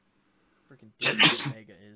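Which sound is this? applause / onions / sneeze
sneeze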